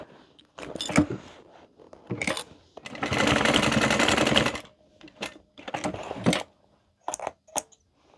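Sewing machine stitching a wristlet lining and boxing its corners, a close rapid stitching run of about a second and a half in the middle, with shorter clicks and handling noises around it and no talk.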